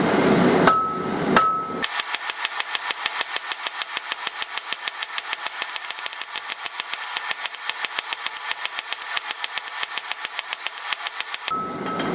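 Hot steel tong reins are tapered with rapid, even hammer blows at a blacksmith's anvil. About ten seconds of ringing strikes sound close and loud, sped up into a fast steady rhythm, with a few separate heavier blows at the start.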